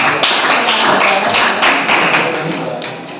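Applause for students in a classroom, a short burst of scattered hand clapping with uneven taps, close and fairly loud.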